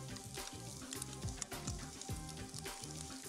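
An egg and sausage mixture is stirred as it sizzles in a pan, giving a continuous close frying hiss with repeated soft scraping strokes of the utensil, fairly quiet overall and without speech.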